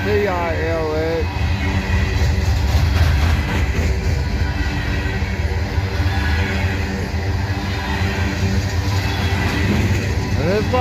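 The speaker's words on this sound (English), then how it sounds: "that's the noisy wheels on that one" Freight cars roll by continuously in Abbeville, loud and close, with a steady rumble, wheel squeal early on and some clatter from noisy wheels, and someone speaking over the passing train.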